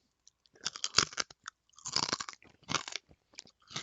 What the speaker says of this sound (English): Okay, that crunch factor is there.